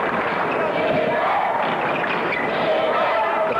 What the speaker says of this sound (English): The fans of the Redmonizers cheering in the background